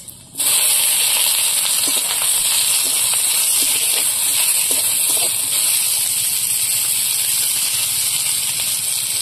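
Dried chillies and onions sizzle loudly in hot oil, a dense, continuous hiss that bursts in abruptly and holds steady with faint crackles and pops throughout.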